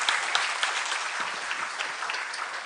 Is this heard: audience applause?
yes